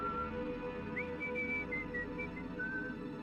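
Several drawn-out whistled tones rise and hold over a steady low background hum, with short pauses between them.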